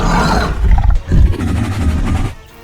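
A deep growling call from the Indominus Rex in the Dinosaur Simulator game, loud and rough, coming in two or three surging bursts with a brief dip near the middle before trailing off quietly.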